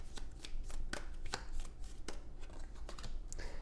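Tarot cards being shuffled and riffled by hand: close, crisp flutters and slaps repeating in an uneven rhythm, with no talking.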